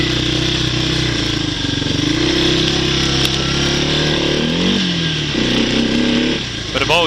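A 1986 Yamaha DX225 shaft-drive ATV engine revs loud and close, holding high with a sticking throttle before the pitch dips and climbs again, as a voice talks over the noise.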